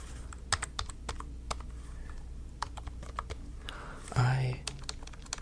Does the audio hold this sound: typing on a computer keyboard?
yes